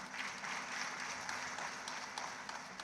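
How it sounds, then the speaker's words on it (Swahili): Hands clap steadily and faintly at a church prayer gathering, where a small child claps along with others, forming a continuous soft patter of applause. "Mtoto mdogo anapiga makofi"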